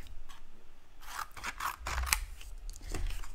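Scissors snip out a paper owl card in a run of close, crisp cuts and clicks, irregular in rhythm and fairly quiet, with light paper rustling between the snips.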